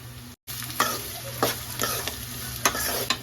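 Onion and carrot frying in a pan with rock salt, stirred with a spatula in repeated scraping strokes over a steady close sizzle, after a brief silent gap near the start.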